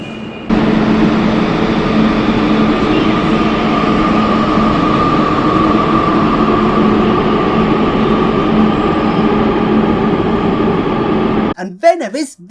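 A medium age metro train on Barcelona Line 1 runs with a steady, loud rumble and motor hum that holds evenly for about eleven seconds, then cuts off as a voice begins speaking.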